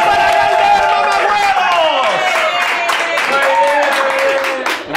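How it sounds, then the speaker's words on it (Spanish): A studio audience on a Spanish comedy talk show claps and cheers for guest Galder Varas, with whoops and shouting voices over loud, continuous applause that fades near the end. "¡Aplausos para Galder, mamahuevos!"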